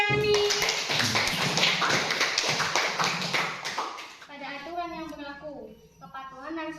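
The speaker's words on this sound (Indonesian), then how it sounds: "berikan tepuk tangan kepada Riviani" A classroom of students applauds a classmate with a dense, rapid burst of many hands clapping for about four seconds, then it fades as a voice speaks.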